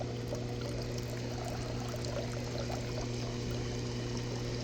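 A steady stream of pool water pours from the return outlet of a solar pool heater, a continuous splashing trickle with a low pump hum beneath and no talking.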